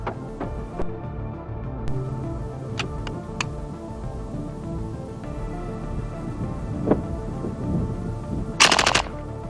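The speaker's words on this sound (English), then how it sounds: "The nominal cyclic rate of fire of the C9 light machine gun is 750 rounds per minute." An M249 SAW belt-fed light machine gun in the shooter game Insurgency Sandstorm fires scattered sharp cracks, then one dense, loud burst near the end over a low background hum.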